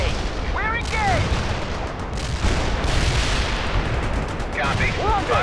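Heavy artillery fire and battlefield explosions in the real-time strategy game World in Conflict, a continuous loud rumbling barrage with overlapping booms and radio-style voices talking over it.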